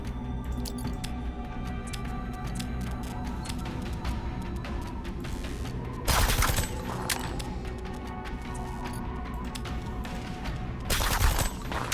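Enemies shooting at a barrier in the strategy game Reverse Collapse, with dense rapid clicking gunfire and two louder bursts of heavy fire, no voices.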